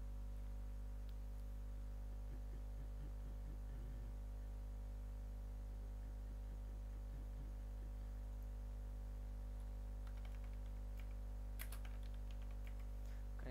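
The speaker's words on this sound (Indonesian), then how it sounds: "berikut saya ketikkan dulu codingnya ya" Keys clatter on a computer keyboard in short bursts as code is typed, faint and close against a steady electrical hum, with no talking.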